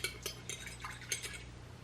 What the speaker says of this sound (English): I am just going to grab a fork. This is just such a small amount here. And just mix this up so that our yeast is completely mixed in.